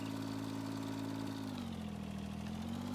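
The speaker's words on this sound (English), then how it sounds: "This is the cleanup tractor." A tractor engine idles steadily in Farming Simulator 19, a continuous mid-low drone that dips slightly in pitch partway through, heard alone.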